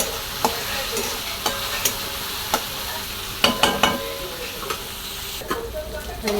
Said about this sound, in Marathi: बघा कांदा टमाटा पण आपला मिळवतो